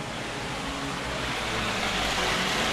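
An underground river flows beneath the Basilica of San Clemente in Rome, heard as a steady, dense rushing of water that fills the space evenly throughout.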